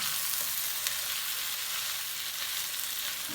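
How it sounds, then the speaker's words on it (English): Sausages lightly browning in a pot for gumbo, giving a steady, close sizzle and crackle of hot fat that holds even throughout, with no voices over it. "you don't want the sausages too dark. Just lightly brown so it can release some of the flavoring in them"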